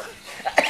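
A single short cough from an elderly woman, close and fairly clear over a quiet background.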